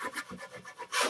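Sanding down high spots on a drywall wall patch, a few quick close scratchy rubbing strokes in a short burst, with no talking.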